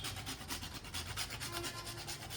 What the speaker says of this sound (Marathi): जे आपण एक्स्ट्रा जे जायफळ घेतलेलं आहे ते थोडस मी किसून घेते